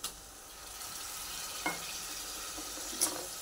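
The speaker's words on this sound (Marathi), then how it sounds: "आता आलं लसूणचा पेस्ट कच्चेपणा निघून जाईपर्यंत आपण थोडंसं 1 मिनिटभर याला परतून घ्यायचं चांगलं" Ginger garlic paste fries in a pan with a steady, dense sizzle, broken by a few brief scraping stirs. The sound is close, with no voices.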